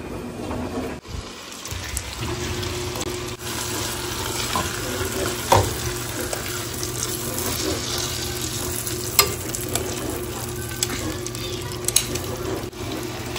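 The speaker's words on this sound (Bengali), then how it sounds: "আমি চিকেন গুলোকে এরকম ভাবে আর কি এপিট ওপিট ভেজে নেব" Chicken pieces fry on high flame in a pan, browning on both sides, with a continuous loud sizzle and occasional clinks and stirring noises, no talking.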